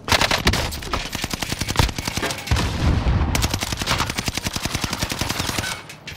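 Video game shootout with rapid automatic gunfire, dense bursts of shots in quick rhythm that continue almost without pause, loud and close, with a few heavier blasts mixed in.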